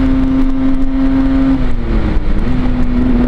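Derbi Senda 50cc motorcycle engine held at full throttle, a loud, buzzing two-stroke drone close by that sags briefly before climbing back to a high, steady pitch.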